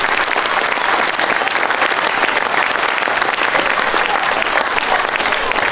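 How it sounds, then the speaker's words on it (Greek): Loud, sustained applause from a crowd at the opening of a new primary school on Andros, many hands clapping densely and evenly throughout. "Παρακαλώ χειροκρότημα για αυτά τα υπέροχα παιδιά"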